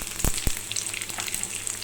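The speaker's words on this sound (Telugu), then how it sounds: "ఇప్పుడు ఈ మొత్తం ఒకసారి ఫ్రై అవనిద్దాము." A seasoning of cumin, dried red chillies and curry leaves frying in hot oil on a low flame for a drumstick dal rasam, crackling with a steady sizzle and two sharp pops near the start.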